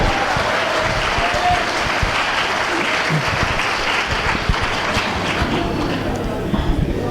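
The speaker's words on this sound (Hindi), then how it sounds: "एक बार दोनों हाथ खोल के जोरदार तालियां इनके लिए बजा दीजिएगा" A large audience at a Hindi poetry recital claps loudly and continuously, a dense sustained roar of hands with no pause.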